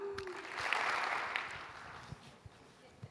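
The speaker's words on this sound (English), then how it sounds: "Let's all give David a 2 clap" Short burst of scattered clapping from a keynote audience, fairly faint and quickly dying down, with a few isolated claps trailing after.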